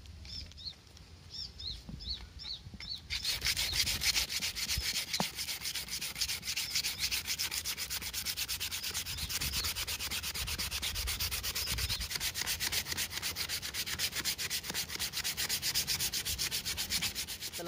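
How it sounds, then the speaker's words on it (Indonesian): Continuous abrasive sanding of a machete's horn handle with a sanding pad, a steady loud rubbing hiss that starts after a brief quiet moment and keeps going evenly to the end. "Kemudian amplas ini kita pasang pada dudukan sanding pad"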